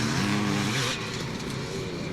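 A micro motocross bike climbs a hill at a Scottish track in Forestmill, Clackmannan, its small engine droning and revving steadily and loudly, with no voices over it.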